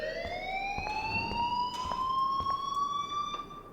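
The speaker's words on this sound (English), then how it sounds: "please turn off that alarm since that's your job" Fire alarm in Life Is Strange, a single rising electronic tone with bright harmonics sounding steadily, overlaid by faint clicks and thumps of movement.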